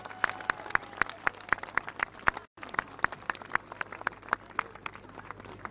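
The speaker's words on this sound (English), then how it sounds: "give someone a really nice big round of applause" Sparse, regular clapping, like a few people applauding in a steady rhythm, with a brief dropout midway.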